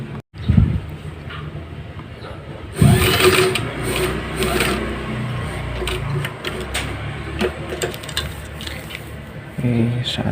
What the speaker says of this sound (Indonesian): Ya, langsung saja kita jahit.